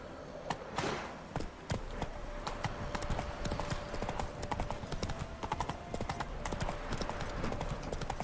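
Horse hooves clip-clopping at a steady riding pace in The Witcher 3, a continuous rhythmic clatter that stays close and even throughout.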